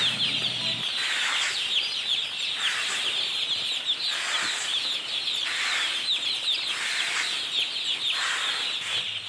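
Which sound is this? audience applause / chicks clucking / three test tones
chicks clucking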